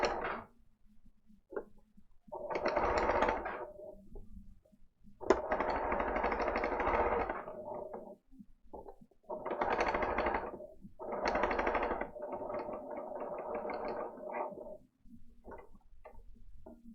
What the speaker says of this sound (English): I'm just stitching like 1/8 of an inch away from that top folded edge.